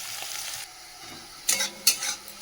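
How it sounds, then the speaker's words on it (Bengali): Chopped onions fry in a pan with a soft sizzle, then a few loud, close stirring scrapes cut in one after another near the end, with no voices. "পেঁয়াজ একদম সেদ্ধ করে কুচি করে নিয়েছি, পেঁয়াজটা ভেজে নিই।"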